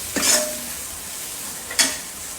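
Peanut curry cooking in a pan in a home kitchen, with two short bursts of hissing sizzle and stirring about a second and a half apart over a faint background hiss.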